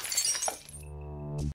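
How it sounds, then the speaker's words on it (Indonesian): A drinking glass falls and shatters, a bright crash of breaking glass followed by a ringing, sustained tone that fades before a final sharp clink. "gelas itu pun terjatuh"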